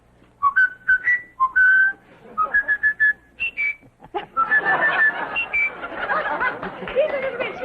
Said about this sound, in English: Ask him what he whistles for the GIs.